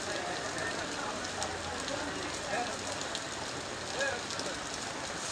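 Rain falling in Dhanmondi, Dhaka, a steady diffuse hiss of drops on surfaces filling the background, with people talking nearby.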